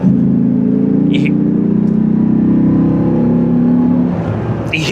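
The V10 engine of a manual Dodge Ram SRT Viper truck revs loudly close by, rising into a throaty, sustained roar and then easing off. A couple of brief clicks are heard, and there is no talk.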